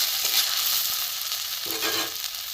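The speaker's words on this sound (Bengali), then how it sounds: "মশলাটা ভালোই কষা হয়ে গেছে" Cumin, coriander powder and green chillies frying in oil for a vegetarian mung dal with ridge gourd, a steady close hiss and sizzle with light stirring scrapes, continuous and fairly loud.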